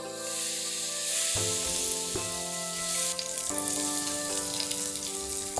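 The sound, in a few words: hot oil poured onto scallion mixture, sizzling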